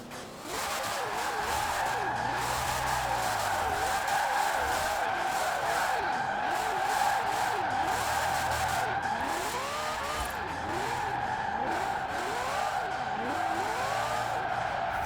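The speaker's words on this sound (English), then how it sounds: "The sound of that engine is so mad as well." A maxed-out, 1,800-horsepower rear-wheel-drive Shelby 1000 in Forza Horizon 4 roars loudly and continuously while its tires squeal and skid in repeated sliding bursts, with no voices over it.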